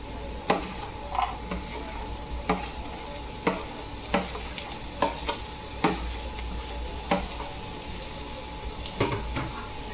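Capsicum being stirred into fried rice in a frying pan, with steady sizzling under repeated scraping strokes of a spatula against the pan, close and moderately loud, no talking.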